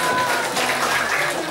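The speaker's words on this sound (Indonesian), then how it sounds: "Tepuk tangannya." Steady, dense applause from an audience at a Quran khataman graduation ceremony for young students in Banjarmasin, filling the whole moment at an even, fairly loud level without pause.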